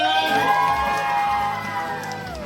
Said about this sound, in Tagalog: Parinig naman ng palakpakan na may kasamang hiyawan.